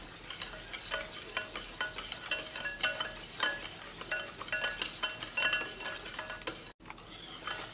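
Sugar being mixed into cake batter for a tutti frutti cake, repeated scraping and clinking of a utensil against a bowl in an uneven rhythm, fairly close and loud, with a brief dropout near the end.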